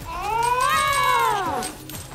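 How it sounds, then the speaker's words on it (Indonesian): A cat in the game Assassin's Creed Mirage lets out one long, rising and falling meow lasting nearly two seconds, loud and close, with no talking over it. "Eh, ada kucing anjir."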